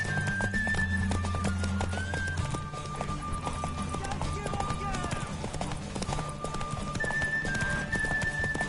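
Hooves clip-clop in a steady galloping rhythm in a video game, under loud talking and background music, with an occasional horse whinny.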